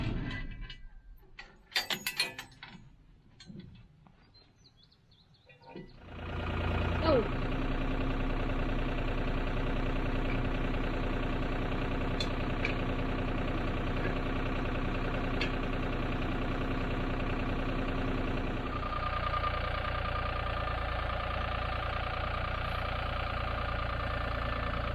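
A big, heavy New Holland farm tractor engine runs steadily at low speed, a loud continuous idle-like drone that starts after a few seconds of quieter handling noise and holds for about twenty seconds with no talk.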